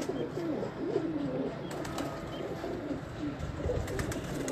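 Pigeons coo softly and repeatedly on a rooftop in Sialkot, low throaty calls over faint outdoor ambience with occasional light rustles and wing sounds.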